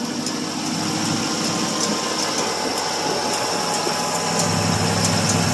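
A 1978 Pontiac Bonneville's 301 V8 runs steadily just after a cold start, with a continuous loud mechanical drone, close by and alone, with no talking.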